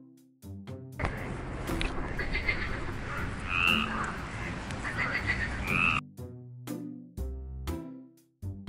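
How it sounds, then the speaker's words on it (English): Dense, continuous frog croaking fills most of the clip, a loud rasping chorus with a couple of higher squeaky calls, bracketed by short musical notes. "They can make sound called croaking"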